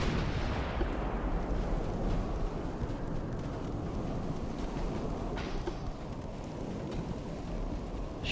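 Naval artillery fire from warships in Ultimate Admiral: Dreadnoughts, a dense, continuous rumble of booming guns and blasts rolling on without a break, fairly loud and heard alone.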